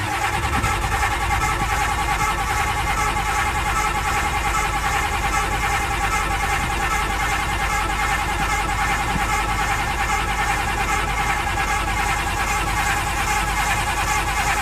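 A 1993 Ford F-250 engine cranks over and over on a cold start without catching, a loud, steady, rapid rhythmic churning that runs throughout and never settles into an idle.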